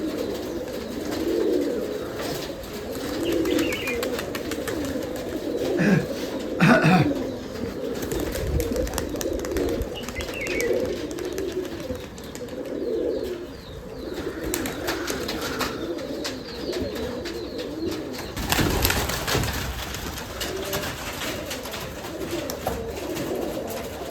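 Giribaz pigeons coo continuously at a pigeon farm, many birds overlapping in a soft, steady murmur with occasional wing flutters and thumps nearby.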